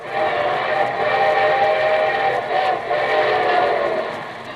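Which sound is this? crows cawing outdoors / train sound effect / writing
train sound effect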